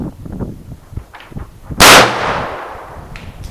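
A single loud sharp report from a Ruger Mark III pistol fired during an ammunition test, a close crack followed by a short decaying echo, with soft handling noises before it.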